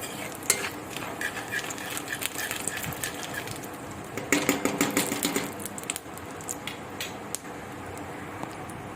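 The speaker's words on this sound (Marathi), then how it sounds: "मी आता हिला अशी थोडीशी तळून घेणार आहे म्हणजे अशी कुडकुडीत करणार आहे" Cumin, mustard seeds and urad dal fry in hot oil for a semolina upma, giving a close, steady sizzle with sharp crackling pops that cluster in bursts, alongside faint stirring and utensil clinks.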